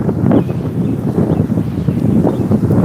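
Gusty outdoor wind on a breezy morning walk buffets the microphone in a steady, loud low rumble with uneven puffs and no clear voice.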